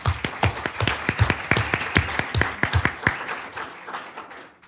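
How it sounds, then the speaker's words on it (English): Applause for the organizer of a law school event, a small group clapping in distinct uneven claps that thin out toward the end. "she deserves a round of applause on her own"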